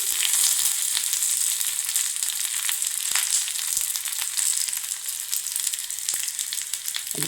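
Dried red chillies and curry leaves sizzle steadily in hot oil, a bright continuous crackle with occasional sharp pops and spits, close and alone without any voices.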